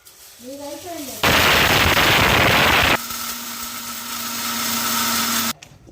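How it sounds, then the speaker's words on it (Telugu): Mixer grinder whirring as it grinds a jarful of roasted red chillies for a spicy chutney powder, a loud dense burst lasting under two seconds, then a steadier motor hum that builds slightly before cutting off. "మిక్సీ జాలో వేసుకుని మిక్సీ పట్టుకుందాం"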